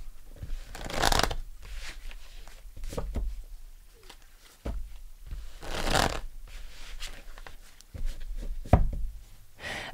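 Tarot cards being shuffled by hand in bursts of soft riffling and papery swishes, with brief taps and pauses between passes, close and fairly quiet with no talking.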